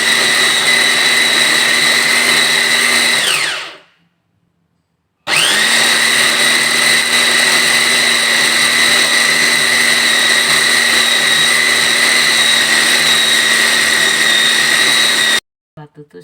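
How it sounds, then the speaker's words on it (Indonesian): An electric blender grinds chicken meat with a loud, steady motor whine, stops abruptly for about a second, then starts again and runs at full power before cutting off, with a few brief bursts at the end. "sekarang kita blender daging ayamnya dulu"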